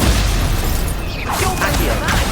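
Incendio fire spell cast in Hogwarts Legacy, a loud booming burst of roaring flame with crackling, swirling bursts that sweep upward and linger for a couple of seconds.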